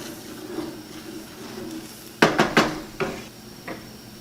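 Sausage gravy being stirred in a pan, with a quiet background hiss and then a quick run of sharp metallic clinks and knocks from the utensil striking the pan, followed by a few softer taps.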